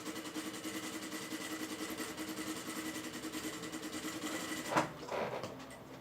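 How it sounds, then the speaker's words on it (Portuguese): A sewing machine stitching the side seams of fabric: a steady, fast mechanical whirring hum runs close and continuous, then breaks off near the end with a brief clatter and softer handling noise. "fiz as costuras, né, laterais só, tá? Retrocesso, retrocesso, retrocesso e retrocesso"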